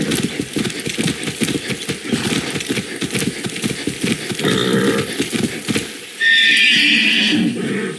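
A horse in the Far Cry 6 video game snorts and gives a loud, drawn-out whinny near the end, after steady clip-clopping hooves and rustling movement; no talking.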